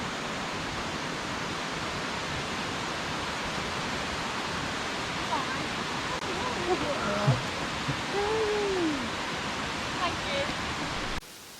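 A waterfall on Koh Samui roars with a steady, dense rush of falling water that stays even and loud throughout, with faint brief calls above it.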